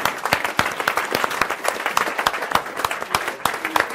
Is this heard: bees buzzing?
no